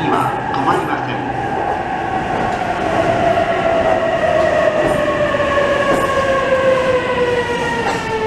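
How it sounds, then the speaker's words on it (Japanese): A Narita Express train bound for Narita Airport pulls into a JR East platform, its wheels and motors whining in a steadily falling pitch as it slows, loud and near with rumbling underneath. "49号Narita 空港行きが参ります。"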